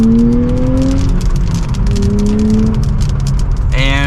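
A 2023 Nissan Z pulls from second gear on a test drive in light rain, its engine note rising in pitch steadily and loudly over road noise, with an upshift and renewed climb.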